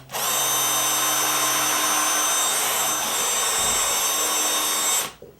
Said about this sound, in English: I'll put the 5/32 in, and I'm going to drill this baby.